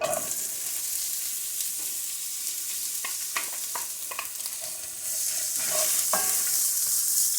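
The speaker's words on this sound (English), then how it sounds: "now we're going to add our onion to the pan" Onion frying in a pan with tomatoes: a steady sizzle with scattered stirring clicks and scrapes, getting a little louder toward the end, with no talk.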